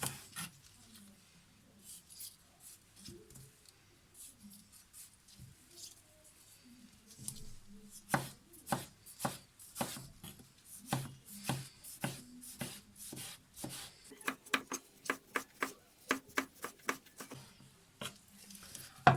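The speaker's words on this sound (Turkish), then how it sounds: "Evet hepsini küçük küçük olacak şekilde doğradım." Sharp knife taps hit a cutting board as tomatoes are chopped small, sparse at first, then a quick, steady run of close chopping strokes with a faint voice early on.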